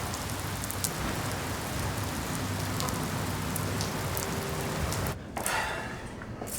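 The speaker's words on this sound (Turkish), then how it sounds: "Ulay Yangaç, yağmur yemişim, ilime kadar ıslanmışım." Steady rain falls outdoors with a dense, even hiss and scattered patters of drops. The noise continues without a break for several seconds, then briefly thins near the end before resuming.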